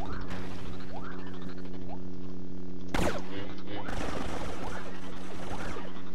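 Star Wars Battlefront 2 blaster fire with a psychedelic Pepperland mod, sharp zapping shots and a bright burst over a steady humming drone, with a flurry of overlapping pops later on.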